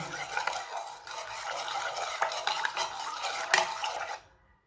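Flour batter with baking powder being stirred and mixed in a bowl with a spoon, steady scraping and clinking strokes close up throughout, ending abruptly.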